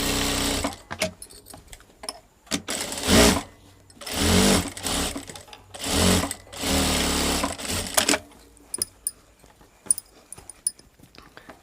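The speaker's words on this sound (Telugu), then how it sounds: "ఏది సాగదీయకుండా ఫ్రీగా స్టిచ్ చేయాలి" A sewing machine stitches a blouse in several separate bursts of rapid needle chatter, each a second or two long, separated by quiet pauses and light handling sounds.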